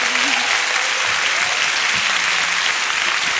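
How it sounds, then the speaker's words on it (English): A theater audience at a Capitol Steps comedy show applauds steadily, a dense, continuous wash of many hands clapping at close range for the whole stretch. "Give yourselves a round of applause"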